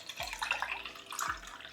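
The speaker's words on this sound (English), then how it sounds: "I'm actually going to measure out 250 ml of water." Water poured from a tap into a glass, measured out at home, running as a steady close splashing flow with two low thuds as the glass fills, no talking.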